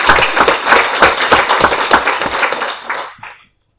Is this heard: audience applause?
yes